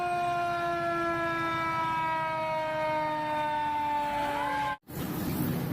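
A toy fire truck's electronic siren drones with a steady, slowly drifting wailing tone for several seconds, loud and close, then cuts off abruptly.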